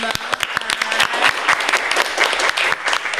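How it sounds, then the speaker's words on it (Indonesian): Lively applause from a group of students during a school talk-show episode, brisk rapid clapping that is close and loud throughout, with voices chattering beneath it. "Tepuk tangan dulu dong."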